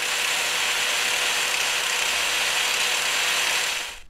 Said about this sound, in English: Here we have the brand new Hercules brushless grinder running on a fully charged 5 amp hour battery.